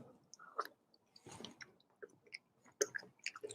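Close, quiet chewing of a mouthful of mushroom risotto, with soft wet mouth clicks and smacks in an irregular rhythm, a louder bite near the end, no talking.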